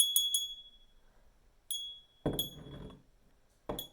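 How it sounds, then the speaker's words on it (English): Delicate glassy tones of a crystal bell ring out in a few quick strikes, followed by scattered clinks and thumps, with quiet gaps between. "I pulled out my crystal bell"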